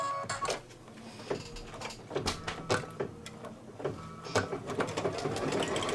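An embroidery machine stitches a tack-down line on fabric, a fast rhythmic mechanical clatter of needle strokes, close and steady with no talk.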